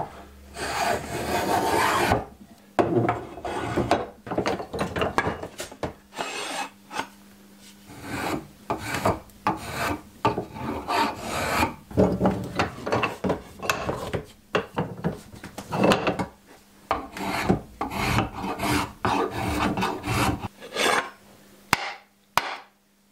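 A spokeshave rasps along a wooden handle for a slip-fit axe in repeated close, rhythmic strokes, each a scratchy shaving pass with short pauses between, and occasional knocks of wood. No one talks.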